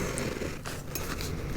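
The zipper on a hiking bag is pulled open in a quiet indoor setting, making a close, steady, rasping rip that lasts just over a second with small fluctuations.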